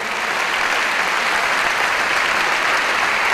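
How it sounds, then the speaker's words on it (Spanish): Thick, steady applause from a large theatre audience at a folklore gala, loud and even throughout without a break. "Quiero que le deis un fortísimo aplauso a los protagonistas del vídeo"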